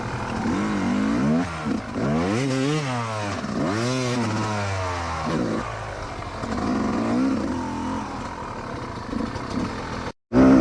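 A motorcycle engine revs up and down repeatedly in second gear, rising and falling in pitch as it accelerates hard nearby, then settles into a rough, rumbling run.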